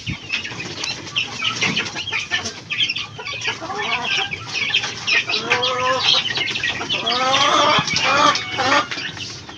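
Chickens cluck and chirp continuously, fairly close, with several birds overlapping and occasional faint wing flaps.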